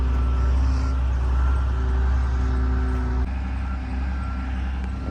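A heavy truck's diesel engine idles and rumbles loudly up close as it reverses to line up with a trailer, with a steady low drone and a shift in engine note partway through.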